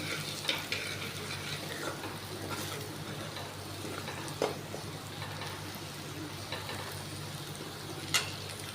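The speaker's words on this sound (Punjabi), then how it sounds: "ਦੂਜੀ ਸਾਈਡ ਆਪਣਾ ਤੜਕਾ ਤਿਆਰ ਹੋ ਰਿਹਾ ਆਪਣੇ ਪਿਆਜ਼ ਹੀ ਥੋੜੇ ਥੋੜੇ ਲਾਈਟ ਬਰਾਉਨ ਜਿਹਾ ਹੋ ਗਏ" Onions fry to light brown for a dal tadka, a soft continuous sizzle with occasional stirring clicks of a utensil against the pan, fairly faint and steady throughout.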